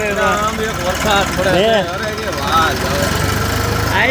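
A tractor engine idles with a low, steady rumble while people talk loudly close by.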